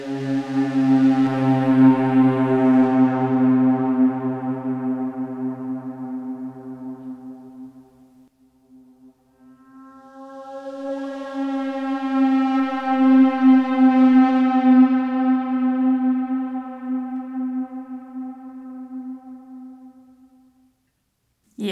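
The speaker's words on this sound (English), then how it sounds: "Now, I have panned some alien sound into the left" An alien sound effect in spacey music, panned left: a long, eerie tonal wail sweeps down and fades, then a second swelling wail rises and slowly dies away, with no talking.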